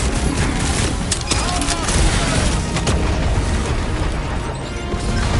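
Gunfire in the Guardians of the Galaxy video game, a dense, steady barrage of shots and impacts with crashing effects running the whole time under busy game audio.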